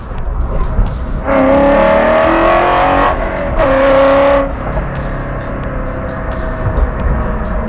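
A 1967 Shelby GT500 Eleanor V8 revving hard under acceleration, two loud rising engine pulls separated by a brief gear-change dip, then settling to a lower rumble.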